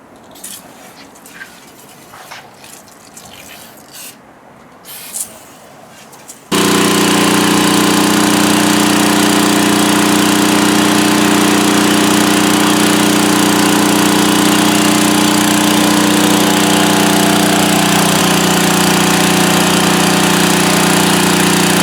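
Pressure washer blasting oil off the underside of a Pontiac engine and chassis: quiet handling sounds, then the machine kicks on abruptly into a loud, constant motor drone with hissing spray that runs unbroken to the end.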